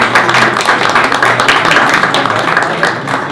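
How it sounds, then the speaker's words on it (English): A conference audience claps for a speaker taking the stage, a dense, even burst of applause close by that holds for a few seconds. "Please, a round of applause for our speaker."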